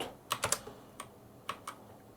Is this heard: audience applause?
no